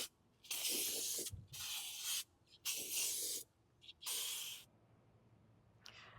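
Aerosol paint sprays the first coat onto a Mercedes Sprinter van bumper in about five bursts of loud, close hiss separated by brief pauses.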